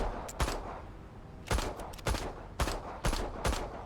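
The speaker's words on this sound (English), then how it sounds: "this is my first time actually firing the gun, and the recoil kind of looks ridiculous" Gunfire in the police video game Police Simulator: Patrol Officers, several sharp shots in quick pairs and bursts spread over a few seconds, fairly loud with no voices.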